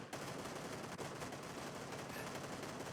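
Rapid automatic gunfire in the video game PUBG, a dense continuous burst of shots throughout, faint overall.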